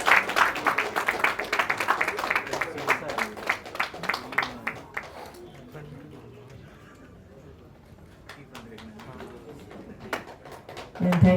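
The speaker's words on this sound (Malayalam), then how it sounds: "നല്ലൊരു കൈയ്യടി നല്ലൊരു ക്ലാപ്പ് കൊടുത്താണ്" Audience applause at a film success celebration as a guest is invited on stage: dense, steady clapping for about five seconds that then fades into a quiet room murmur, with a brief burst of claps returning at the end.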